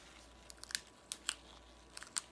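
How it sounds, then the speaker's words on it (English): Small scissors snip through craft tape stuck together on a gradient toe-design piece, giving a few quiet, crisp clicks in little clusters against a faint background hiss. "So I'm going to cut it with the small little scissors."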